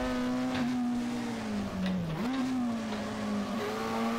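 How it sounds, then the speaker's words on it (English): Engine of a race car in a retro video game on the Targa Florio road circuit, revving steadily with throttle blips and rising and falling pitch through downshifts, loud and continuous with no talk. "I'm also blipping the throttle"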